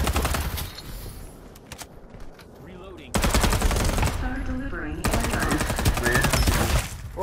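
Rapid automatic gunfire in the battle royale shooter Farlight 84, loud sustained bursts crackling in three long stretches separated by brief quieter gaps, with game effects underneath.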